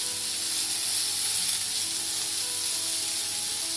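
Coriander powder hitting hot oil while cooking achari karela: a steady, even sizzle and hiss that holds level throughout, with no talk over it.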